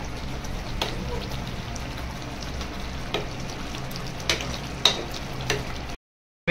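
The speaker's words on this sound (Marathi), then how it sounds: "डबल आता हलवून घ्यायला लागलो आम्ही" Kolhapuri mutton rassa being stirred in a pan, a moderate steady sizzle with a few distinct scraping clicks of the spoon spaced seconds apart, then a brief silence and a last knock.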